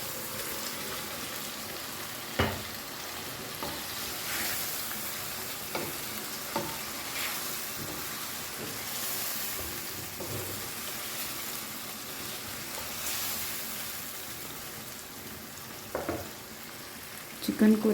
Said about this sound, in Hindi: चिकन को हमें अच्छी तरह से भूनना है ताकि इसमें सारा मसाला जो है वो मिक्स हो जाए।